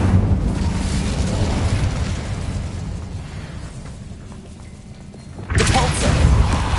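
Incendio fire spell cast in Hogwarts Legacy, a rumbling fiery whoosh that fades down and then bursts again loudly near the end, with a voice calling out over the effect.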